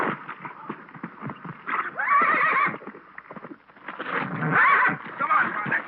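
A horse whinnies twice, loud and close, while hooves clip-clop in a western setting, with a voice mixed into the scene.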